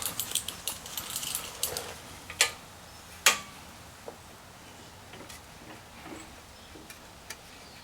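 Pliers click faintly while working on a 1959 VW single cab truck under restoration, with sparse, irregular small metallic ticks and two sharper snaps over a quiet room, no talking.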